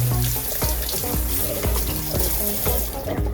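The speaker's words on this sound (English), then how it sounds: "I rinse this off right away because if you know anything about dried milk, it's like glue" Tap water runs into a kitchen sink, rinsing milk off a hot thermometer. Close, loud, steady flow splashes throughout, with recurring thumps and a faint tonal background underneath.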